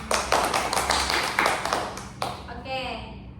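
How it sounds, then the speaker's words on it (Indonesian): A group of classmates gives a short burst of clapping in a classroom group guidance session, several sharp taps fading out within a few seconds, with a voice talking over it. "Tepuk tangan dulu untuk teman-teman"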